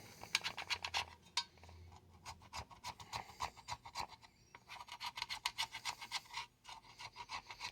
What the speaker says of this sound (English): I'm just scraping until there's a decent surface to adhere to.